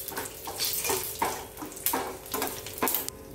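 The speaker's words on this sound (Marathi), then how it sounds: "मसाले एकदम आपले असे छान फ्राय झाले आहेत" Whole spices including cumin sizzling and crackling in a hot pan, close, with rhythmic stirring scrapes every half second or so and no talk.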